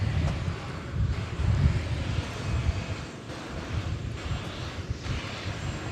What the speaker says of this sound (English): Bit of a breeze